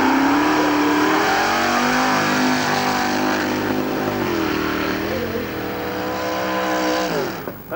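A heavy Ford Mustang drag car weighing about 1700 kilos on fat treaded tyres revs its engine loudly and continuously at a 1990 drag racing event, the pitch climbing and falling, close by and alone.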